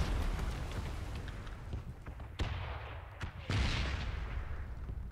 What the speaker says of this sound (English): Sounds like there's gunfire to the west from me.